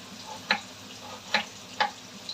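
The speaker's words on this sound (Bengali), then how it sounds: "এইদিকে আলুটা ভাজা হচ্ছে" Potatoes frying in a pan, a soft continuous sizzle with a few sharp ticks and clinks from a utensil at irregular intervals, close by, with no speech.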